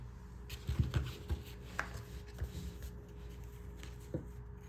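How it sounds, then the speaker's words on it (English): Scissors snip through fabric appliqué on a baby onesie, cutting close to the embroidered stitching, with several quiet, irregular cuts close by. "You're gonna cut as close as you can to that stitch."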